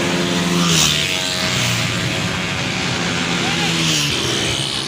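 A stream of motorcycles roars past on Ferozepur Road in Kasur, with engines whining loudly and shifting in pitch as each bike passes close by. Voices mix in with the traffic.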